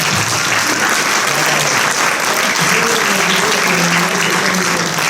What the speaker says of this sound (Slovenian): kdaj tudi njemu še lahko aplavz damo